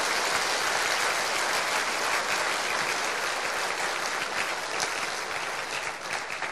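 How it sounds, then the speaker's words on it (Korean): A church lecture audience gives sustained applause for pastors' wives, a thick, even roar of many clapping hands that holds steady and eases slightly toward the end, with no talk over it. "우리 대한민국에 있는 모든 사모님들을 위한 박수 좀 쳐줘"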